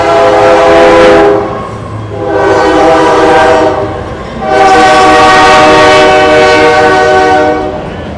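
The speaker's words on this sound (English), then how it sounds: "Trains. Yeah, lots of them come through here" Freight trains rolling past nearby, loud and steady, with a long harmonic horn blast sounding in two or three swells over the rumble of the cars.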